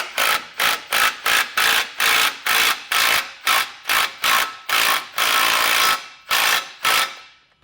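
A power tool, likely an impact or ratchet wrench, loosens a Blue Ox base plate bolt on a 2024 Jeep Wrangler Unlimited in a series of about fifteen sharp, evenly spaced rattling bursts, one longer burst near the end, up close and loud.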